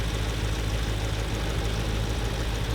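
A Jeep Grand Cherokee 5.7 Hemi V8 idles with a steady, low rumbling drone and faint ticking texture, running continuously and fairly close.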